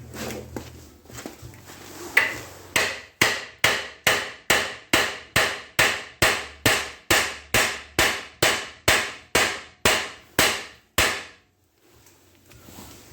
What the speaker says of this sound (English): I should be able to hammer it into this hole